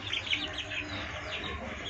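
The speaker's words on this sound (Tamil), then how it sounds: "இதுதான் நம்ம வீட்டில் பெரிய ரூஸ்டர்" Backyard chickens, including a large rooster among hens and chicks, give soft clucks and chirps over a steady low background hum, fairly faint and continuous.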